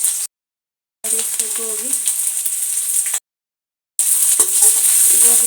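Cabbage and green chillies stir-fried in a pan for homemade chowmein, a bright steady sizzle with scraping stirs, broken by two short silent gaps, while someone talks over it.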